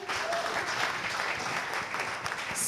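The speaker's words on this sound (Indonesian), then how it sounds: "boleh tepuk tangan sekali lagi?" An audience at a seminary talk show with a Tangerang prison bursts into applause, a dense, even wash of many hands clapping at moderate volume throughout a short stretch.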